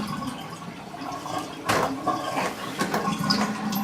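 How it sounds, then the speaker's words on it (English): Water from a betta aquarium holding sand is poured out slowly, a soft continuous trickle and splash that swells briefly midway, with no talking. "I pour it slowly so I don't lose very much of my sand."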